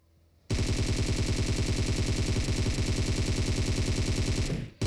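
Sustained automatic gunfire in the mobile battle royale game PUBG Mobile, a loud, rapid, unbroken burst lasting several seconds before cutting off abruptly, with no talking over it.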